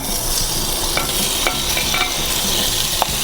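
Olive oil sizzles steadily in a hot pan, a constant close hiss broken by a few light clicks and taps.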